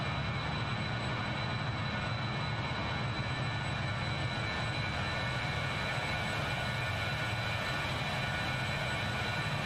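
A BAe 146 jet airliner in Microsoft Flight Simulator, heard as a steady, dense engine roar with a high whine on top, constant and unbroken throughout, with no talking.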